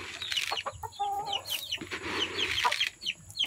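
Texas gamefowl chickens cluck and chatter close by in a backyard flock, a busy overlapping mix of short clucks and higher calls with soft rustling beneath and no speech.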